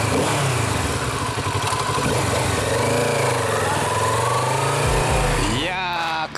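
A 700cc naked motorcycle ridden on the road hums steadily with engine and wind noise, close and continuous, briefly dropping in pitch near the end.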